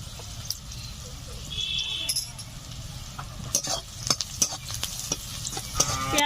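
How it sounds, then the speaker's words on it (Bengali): Onions fry in a pan with a soft, low sizzle while a utensil stirs them, producing a few scattered clinks and scrapes in a quiet kitchen. "পেঁয়াজ ভাজা ভাজা হয়ে গেছে"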